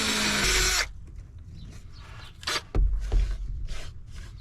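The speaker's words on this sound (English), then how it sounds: "let's drill our hole" Power drill boring a hole into the body of a camper van, a loud steady whir for nearly a second, then quieter scraping and short bursts of handling noise.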